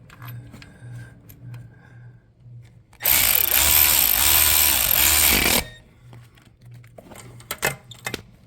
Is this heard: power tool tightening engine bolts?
yes